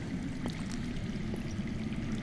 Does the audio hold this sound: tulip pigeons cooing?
no